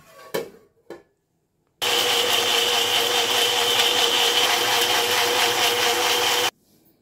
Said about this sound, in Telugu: వీటిని ఇప్పుడు ఫైన్గా మిక్సీ పెట్టేసుకొని పేస్ట్ లాగా చేసుకుందామండి